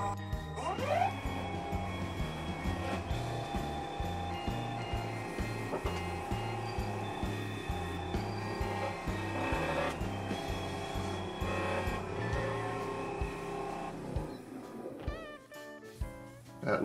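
A wood lathe spins a poplar bowl at 2000 RPM while a clean dry cloth buffs it, giving a steady, close mechanical hum with a soft rubbing texture that drops away near the end.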